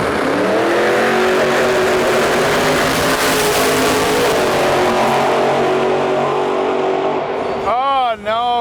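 A field of 66 race cars roars around a race track, a loud, dense, sustained engine drone that runs throughout, with a high whining engine rising and falling near the end.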